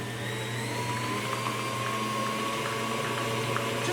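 An electric mixer whirs at a higher speed through cupcake batter for an orange dreamsicle recipe, a steady close motor hum with a faint whine and no talking.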